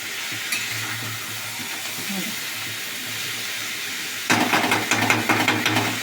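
Vegetables in an overfilled pan fry with a low hiss, then a spoon scrapes and stirs them with rapid, loud clattering strokes near the end; steady sizzle underneath throughout.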